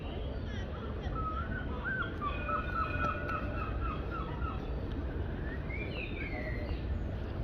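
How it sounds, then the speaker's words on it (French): Gulls call in a park in Ireland, a run of repeated rising cries at mid distance over a low, steady rumble of wind and traffic, with a little quiet talk underneath. "Accompagné par des goélands, je pense."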